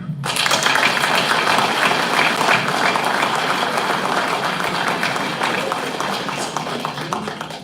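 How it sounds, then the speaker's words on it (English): Applause from the audience at a city mayoral debate in Wheeling, a loud, dense burst of many hands clapping that starts abruptly and holds steady for several seconds before gradually thinning toward the end. "let's try to keep applause down a little bit"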